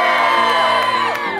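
A rally crowd against fossil fuels shouts and cheers, a loud burst of overlapping whoops and yells from many voices, sustained for a moment and close by.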